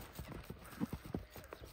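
A tall horse for sale walks on hard ground, making a soft, fairly faint clip-clop of hooves in an uneven rhythm.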